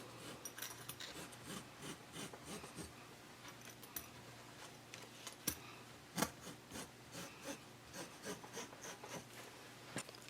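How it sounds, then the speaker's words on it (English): Double-sided tape is burnished onto a fabric zipper with short repeated rubbing strokes, a close, soft scraping rhythm of quick strokes with a few sharper taps. "Then burnish it down."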